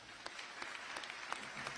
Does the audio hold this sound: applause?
yes